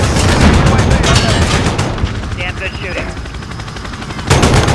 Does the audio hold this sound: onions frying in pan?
no